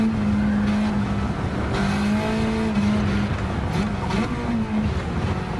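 A Honda race car in Gran Turismo 7 holds a loud, sustained engine drone, with the pitch shifting through gear changes and brief dips as it drives around the track.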